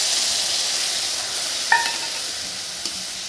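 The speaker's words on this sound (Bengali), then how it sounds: "পেঁয়াজ ভাজি হেলান এখন মশলা দেমা।" Onions sizzle steadily in a hot pan for chaat, a bright continuous frying hiss with a couple of brief clinks as spices go in and are stirred, no talking.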